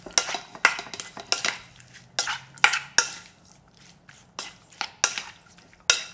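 Salt and ground black pepper mixed in a bowl: a series of sharp, close clinks and scrapes of utensil against the bowl in irregular bursts, with quiet gaps between.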